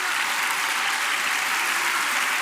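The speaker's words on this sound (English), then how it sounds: "Just that clapping, dude, is so bad" Continuous clapping from an audience during a speech, an even, dense wash of many hands that stays loud and unbroken throughout, with no voices standing out.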